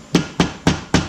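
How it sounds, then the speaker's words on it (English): Four sharp, evenly spaced hammer taps on metal as a seal is driven into a race car's front wheel hub, close and loud, each a quick ringing knock with a short decay. "Install your seal. Yeah, it's going to require a hammer."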